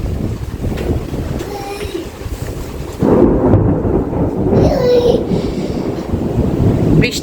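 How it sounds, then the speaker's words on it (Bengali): Thunder rolls through a thunderstorm with lightning and rain beginning, a deep sustained rumble swelling louder midway over steady wind noise, with people talking nearby. "বিদ্যুৎ চমকাচ্ছে।"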